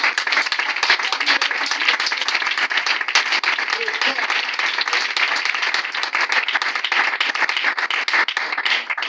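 A church congregation at a Sunday service bursts into sustained applause, dense rapid clapping from many hands filling the room steadily throughout, with voices mixed into the crowd.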